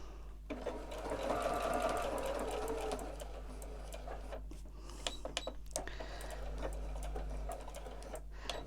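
Domestic sewing machine quilting a Christmas stocking panel, running in steady rapid bursts with short pauses and a few clicks of stitching stops, fairly close and alone.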